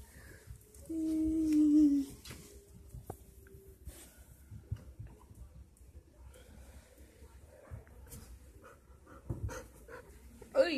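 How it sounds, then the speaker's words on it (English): A dog panting and sniffing up close in short rhythmic bursts, with a brief whimper early on, while a person talks softly to it. "Sniffing all over me there, Tonka."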